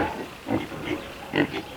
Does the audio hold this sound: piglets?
yes